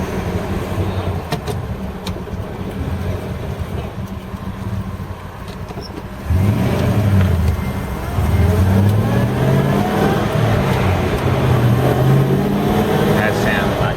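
A Holden Kingswood with a 253 engine, fresh from repairs, is driven on a test run. The engine hums steadily, then rises sharply to a louder, revving pull midway, while occupants chat inside the car.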